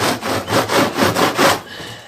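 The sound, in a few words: wiping excess wax off Warre beehive part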